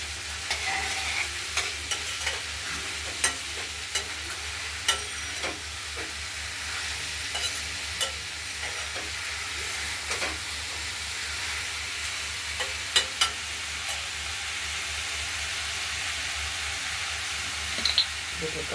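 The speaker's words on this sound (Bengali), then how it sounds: "লাউটা আমরা নুন দিয়ে দিয়েছি। হলুদও দিলাম, লাগলে পরে দিচ্ছি একটু। নেড়ে চেড়ে ঢেকে দেবো না।" Bottle gourd with salt and turmeric is stirred in a sizzling pan, giving a steady frying hiss with scattered scraping clicks from the spoon, close, while someone talks now and then.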